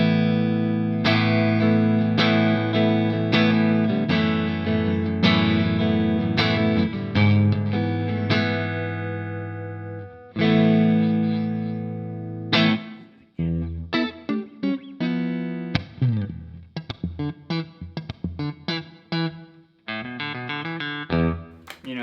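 Electric guitar through the clean channel of a Soldano SLO 30 amp, ringing chords and sustained notes, then a run of short, rhythmic picked notes and stabs, played alone with no talking.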